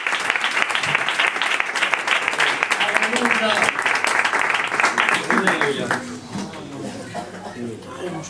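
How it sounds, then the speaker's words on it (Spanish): A church congregation gives a strong round of applause, dense clapping mixed with voices and cheers, loud and sustained, then thinning toward the end as the noise drops. "Pueden dar un fuerte aplauso al Señor"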